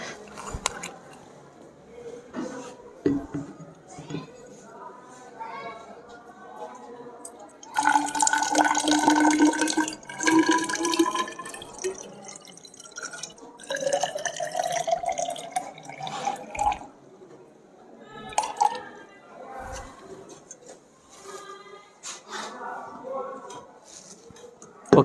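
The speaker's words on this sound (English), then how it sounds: "We have to fill 250 ml with the distilled water." Distilled water runs into a 250 ml measuring cylinder in a school lab, a rising gurgling trickle whose pitch climbs as the glass fills, with people talking on and off over it.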